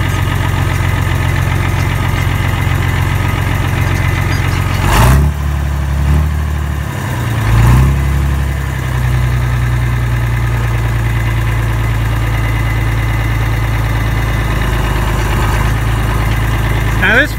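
An International Harvester 560 tractor, modified to roughly 70 horsepower, idles steadily and close by with a low, even mechanical drone, broken by a couple of brief disturbances partway through.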